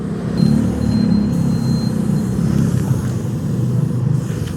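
Car cruising on a highway in India, a steady close road rumble and engine drone from inside the vehicle, continuous and unbroken, with no talk.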